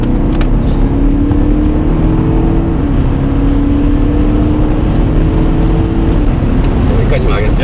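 A Volkswagen Touareg V8 4.0 TDI diesel accelerating hard from cruising speed, heard from inside as a loud, steady engine drone with a rising tone, with voices talking over it.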